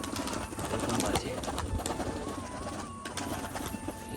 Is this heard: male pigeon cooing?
yes